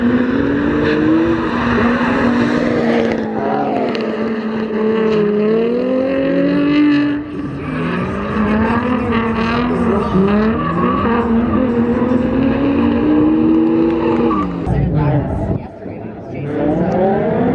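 A 200hp Miata drift car engine screams and revs up and down continuously during a tandem drift competition, high-pitched and loud, with tire squeal mixed in during sliding transitions.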